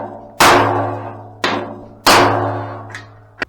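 Hammer blows on a chisel cutting frame rivets on a 1971 Chevy C10, three loud ringing metallic strikes that decay slowly, then two lighter taps, close by and with no voices.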